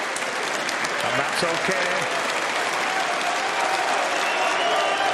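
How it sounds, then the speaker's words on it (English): Sustained applause from a snooker crowd at a UK Championship match, a broad steady wash of clapping that runs throughout, with a commentator's voice talking briefly over it near the start. "And just listen to the crowd."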